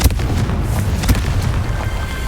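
A Confringo spell explosion in a Harry Potter video game sets off a deep, rumbling boom with a few sharp bursts layered over a continuous low roar.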